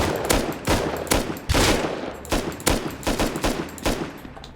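Rapid bursts of gunfire in the survival game Rust, around a cargo ship, crack out again and again in a ragged rhythm, loud and close, with no talking.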